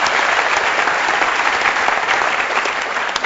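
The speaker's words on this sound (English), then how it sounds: "she deserves a huge round of applause" Sustained audience applause for a conference organiser at an ocean conservation event, an even, full crowd of clapping throughout, fairly loud and unbroken, with no voice over it.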